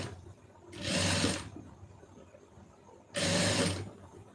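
A sewing machine stitches a lining piece to a main fabric piece in two short, even mechanical bursts, each under a second, separated by a quiet pause, up close with no talking.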